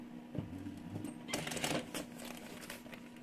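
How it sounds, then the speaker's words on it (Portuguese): A domestic sewing machine stitching fabric for a small 2-in-1 mini backpack, running in short bursts of rapid mechanical clatter with brief pauses and some handling rustle between runs. "coloco essa parte pra dentro da máquina. E agora eu começo a costurar do meio pra cá"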